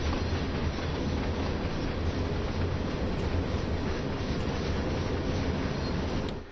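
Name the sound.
empty coal train passing in Train Sim World 2 video game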